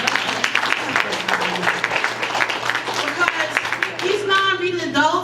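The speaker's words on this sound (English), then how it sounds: "Can we just clap it up for that for a minute?" Audience at a stand-up comedy show breaks into sustained applause and clapping, a dense crackle of many hands with a steady hum underneath, while voices carry over the top and the clapping thins toward the end.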